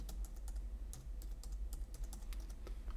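Light, quick key clicks from someone typing on a computer keyboard, a fast irregular run of soft taps, close but faint over a low background hum.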